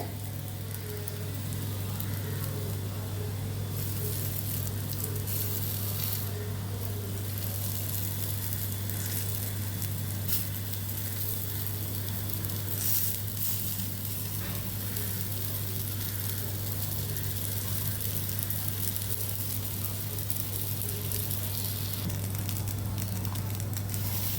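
Mutton seekh kebabs frying in a pan with butter, giving a continuous close crackle and sizzle with fine popping spatter and a low steady hum beneath, unbroken and without voices.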